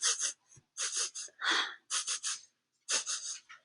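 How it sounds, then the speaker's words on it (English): Quick series of short sniffing inhales through the nose, bunny-style breathing done as a children's mindfulness exercise, in bursts of three or four with pauses, close and clear. "And let's breathe like a bunny."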